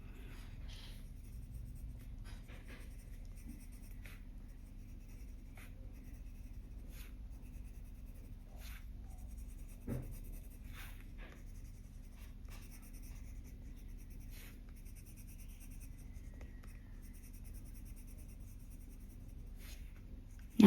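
Colored pencil layered again and again on good-quality adult coloring book paper (Mythographic books), giving a quiet, steady scratch of strokes that continues alone without speech.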